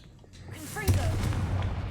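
A Confringo explosive spell cast in the Hogwarts Legacy video game, heard as a sudden booming blast that rings on with a sustained rumbling roar, near and loud.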